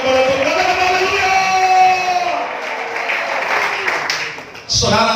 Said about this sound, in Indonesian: Kasih tepuk tangan yang bergelora kepada Tuhan